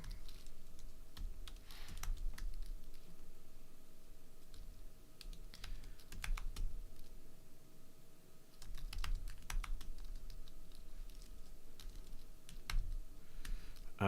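Someone types steadily on a computer keyboard while writing code, with quiet, rapid clicks coming in bursts and short pauses, close-up and without speech.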